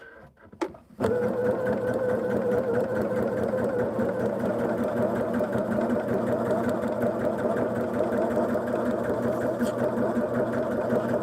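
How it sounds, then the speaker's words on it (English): A sewing machine runs steadily for about ten seconds, stitching a line down the outside edge of a quilt block after a brief handling noise at the start; the whir is close, even and continuous, with no talking over it. "I'm going to run that line of stitching down the outside edge."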